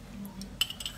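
A metal spoon scoops coffee into cups, making a few light, close clinks and taps against cup rims, soft and brief against a quiet room.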